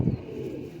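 A pigeon, one of a pair of fancy kabootar offered for sale in Pakistan, gives a single short, low, throaty coo nearby.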